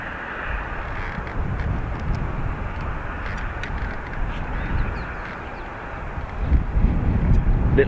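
An aircraft taxis past a gap in the perimeter fence at Dublin Airport, giving a steady broadband engine rumble with wind buffeting the microphone. It swells slightly louder near the end as it draws closer.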